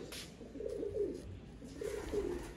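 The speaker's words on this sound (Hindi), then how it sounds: "ये जी सियालकोटी कबूतर, पुराने वैशी कबूतर है" Sialkoti pigeons kept in a loft in Wapda Town, Lahore, give soft low cooing in two short rolling phrases, faint and close, with no talk over them.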